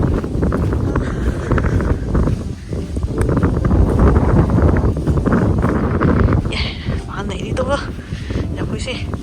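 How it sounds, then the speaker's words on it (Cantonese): Strong wind buffets the microphone at a Hong Kong campsite, a loud, continuous roar with gusty surges and some rustling throughout. "超大風啊"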